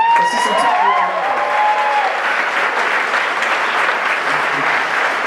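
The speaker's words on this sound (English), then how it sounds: "come on, clap it up" A live audience at a tech talk breaks into sustained, loud applause that fills the room steadily, with a voice briefly heard over the clapping at the start.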